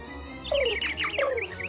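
Cartoon cats give a quick run of high, warbling tweets and chirps imitating birds, a short lively flurry over a steady background hum.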